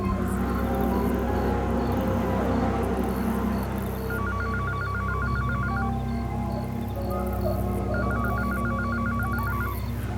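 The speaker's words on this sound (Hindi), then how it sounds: "फोन बज रहा है।" A telephone rings in a Hindi horror drama, two bursts of rapid trilling electronic rings separated by a pause, sounding over a steady droning music bed with no talk.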